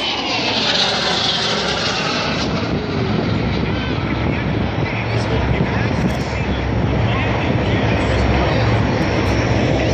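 Harrier jet flying past at the Wings Over Pittsburgh air show, a loud, continuous roaring engine blast that stays strong throughout, with wind buffeting on the microphone.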